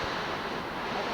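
The upper falls of the Quantaman River rush in a steady, dense roar of water that fills the whole moment, broad and continuous with no pauses or voices.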